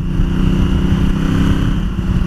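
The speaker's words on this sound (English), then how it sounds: "with its growly engine note and the character in that engine, it's just a fun machine to chuck around" A 2018 Honda CRF1000L Africa Twin adventure motorcycle holds a steady, growly engine note, loud and close, with a continuous low drone and no speech.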